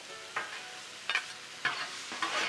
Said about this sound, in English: That sauce, it kind of reduces on the griddle top, just wafts up, hits me right in the face